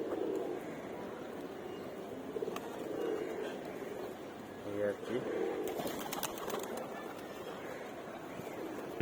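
Pigeons in a home loft coo softly and repeatedly at moderate distance while someone talks over them, with a brief flutter of wings midway.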